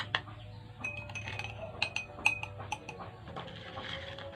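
Metal spoon clinking repeatedly against a container while sugar is stirred into pineapple filtrate, with quiet, irregular taps and rings over a low background hum.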